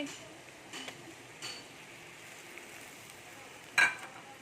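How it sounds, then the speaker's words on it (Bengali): Onions fried until reddish, with ginger-garlic paste added for a potato mutton curry, give off a soft, steady sizzle in the pan, broken by a few light utensil taps and a sharper clink near the end. "পেঁয়াজ একদম লাল লাল ভাজা হয়ে গেছে এখন আমি এই পর্যায়ে আদা রসুন বাটা দিয়ে দিচ্ছি"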